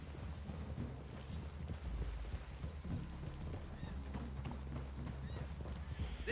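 Horses walking on ground in Red Dead Redemption 2, a western open-world game, with steady overlapping hoof clip-clops and an occasional snort, fairly close, under low background game ambience.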